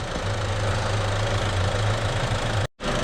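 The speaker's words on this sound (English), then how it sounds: "So we can get on the key and give it a big start." A 2016 Peugeot Partner van, just fitted with a new NOx sensor, runs at a steady idle with a low droning hum and slight knock, close and constant, then cuts out abruptly near the end.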